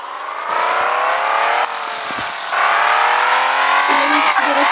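Car engine in the Car Simulator video game revving and sliding through drifts, a steady loud synthetic motor whine with pitch shifts and brief dips as the car skids.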